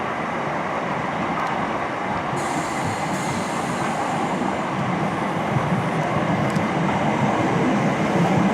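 Southern passenger train at Ewell East station running steadily and loudly throughout, with continuous rumble and rail noise, a brief higher squeal mid-way and no talk.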